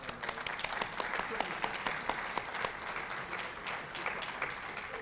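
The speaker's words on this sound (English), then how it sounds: "I think he needs a round of applause." An audience claps steadily for a university dean at a hall of fame presentation, with dense, sustained applause filling a large room and no speech above it.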